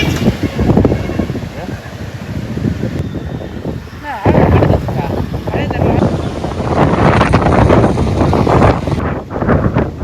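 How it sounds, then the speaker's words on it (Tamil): Strong gusty cyclone wind from Cyclone Fengal buffets the microphone on the Marakkanam coast, a loud, continuous roar that surges and drops in rushes, with a fainter watery wash underneath and no talking. "மரக்காணம் பகுதிகளில் வீசி வரும் பலத்த சூறை காற்று"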